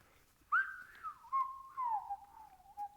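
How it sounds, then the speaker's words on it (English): Someone whistles a short wavering melody from Robin Hood, a few sliding notes that rise and fall, fairly quiet and close with no talking. "I can't whistle very good."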